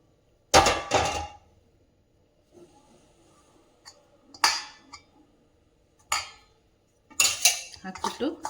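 A spoon clinks and scrapes against a pan in several short bursts as hot sugar syrup is stirred into roasted peanuts for peanut laddu, with quiet gaps between the clattering strokes.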